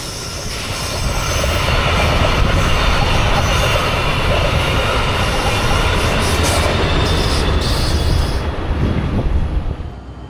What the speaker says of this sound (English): The very next departure from Orlando southbound was also a 5-car train